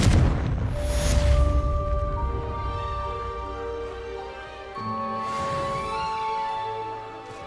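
A Confringo blasting spell in Hogwarts Legacy goes off with a loud booming burst at the start, then a lingering rumble that tails off under sustained musical tones, with a second softer whoosh near the end.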